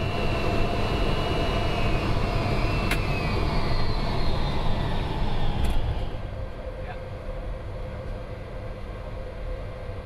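A NATO aid flight approaching Islamabad airport in heavy monsoon weather, a steady loud engine roar heard from inside the cabin that drops slightly in level partway through, with a faint voice under it.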